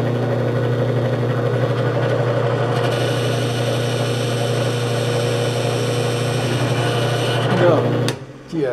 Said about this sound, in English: to the drill press and drill that baby out one more time